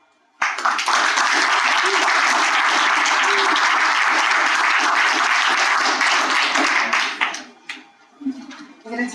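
Loud, sustained audience applause from a Paralympics closing ceremony crowd, dense clapping that begins abruptly and holds steady for several seconds before thinning out near the end.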